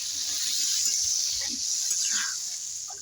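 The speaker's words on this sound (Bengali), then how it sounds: "এবার আমি জল দিয়ে দেবো।" Water poured into a pot of potatoes and figs being cooked in a fig curry with prawns, a steady close gush of liquid running for a few seconds.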